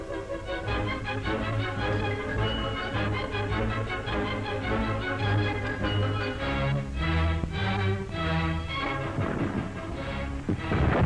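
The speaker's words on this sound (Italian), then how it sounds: "Artiglieria in azione durante la manovra controffensiva." Artillery booms out in a World War II Italian counteroffensive against Soviet forces in December 1941, heavy repeated blasts and crashes layered over a dense, continuous din with music.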